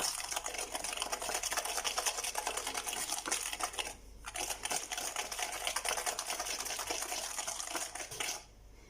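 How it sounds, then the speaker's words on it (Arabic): Hand whisk beating eggs with sugar in a bowl for chocolate cupcake batter, a fast, steady, close scraping and clicking rhythm that runs continuously with a brief pause near the middle and stops near the end. "غادي نخلط غير بالضراب اليدوي حتى غادي يندمجوا لينا مزيان"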